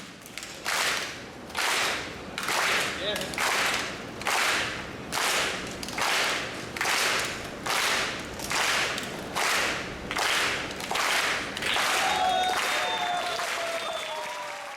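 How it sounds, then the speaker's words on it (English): An audience at a TEDx talk performs a rhythmic soul clap, about a dozen evenly spaced bursts of massed clapping pulsing steadily, ending in a looser sustained clatter with a brief spoken word. "Let's do a soul clap. Ready? Follow me."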